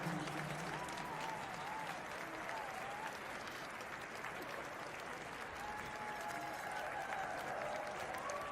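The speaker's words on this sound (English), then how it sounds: "Nice ovation from this Calgary crowd for Bo Snelling." Sustained applause and cheering from the crowd at a speed skating World Cup session in Calgary fills the hall, a steady broad roar of clapping with some faint voices mixed in.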